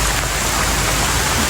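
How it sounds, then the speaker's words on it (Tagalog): Heavy rain pours steadily over a banana and sweet potato farm plot, a dense unbroken hiss of drops close by with no pauses and no voices. "Malakas ang ulan."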